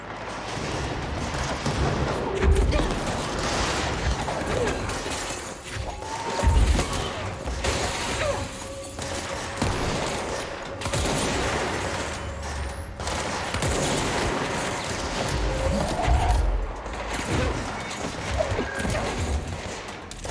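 A hand cannon fires repeatedly during combat in the video game Control, with dense bursts of gunfire and impacts over a steady, noisy battle soundscape lasting about twenty seconds, with no talking.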